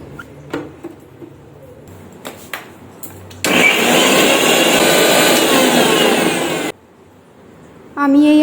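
A kitchen blender grinds ginger, garlic and green chillies into paste, a loud steady whirring burst of about three seconds, preceded by clinks and handling noises and followed by another short whir.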